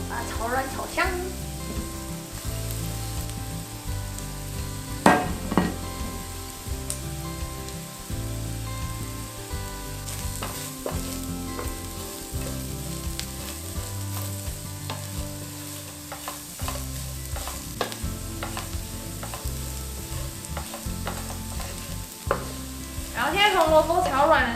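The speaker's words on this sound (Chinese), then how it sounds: "我们就放入红萝卜跟菜脯，把它炒软炒香" Carrots and preserved radish stir-fried in a pan for a vegetarian cabbage rice dish, giving a steady close sizzle with repeated scraping and stirring strokes and occasional clanks of the utensil on the pan.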